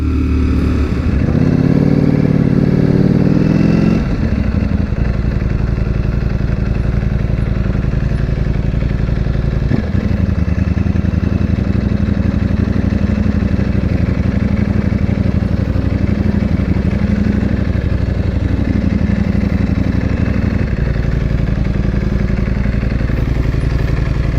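A Ducati Streetfighter V4S on a group ride roars loud and close, with a strong rev near the start, then a steady throbbing drone at cruising pace and brief throttle changes around the middle and end.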